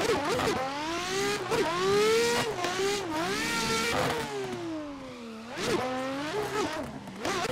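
Nissan R33 Pro drift car in a racing game, engine revving hard near redline with repeated rising and falling pitch sweeps, gear changes and brief tire squeal, loud and close.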